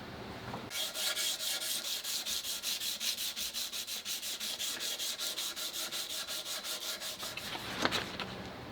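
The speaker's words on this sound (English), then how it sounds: "Let's get this thing sanded." A wooden stock from a Ruger 44 carbine is sanded by hand in quick, even back-and-forth strokes, a close, rhythmic rasping rub that keeps up steadily for several seconds, then stops.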